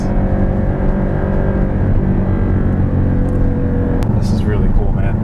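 A Porsche Cayman 718 GTS engine drones loud and steady while driving, its dense harmonic note held high in the rev range with a slight upward climb, as someone talks excitedly over it from inside the cabin.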